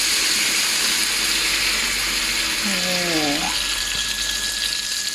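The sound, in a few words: marinade poured into the pan of chicken liver and gizzards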